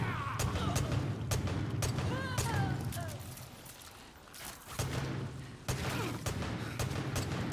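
Gunfire in the Far Cry 5 Dead Living Zombies DLC, with a hand cannon among the weapons: a rapid series of sharp, loud shots and blasts cracks over steady game background noise, with a brief lull near the middle.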